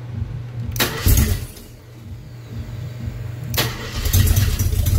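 A Jeep engine with two open exhaust ports cranks and catches, then settles into a rough idle before revving up again, loud and close.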